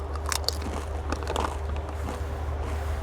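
Biting into a large Karamucho spicy potato chip makes several sharp, close crunches, then crackly chewing over a low background hum.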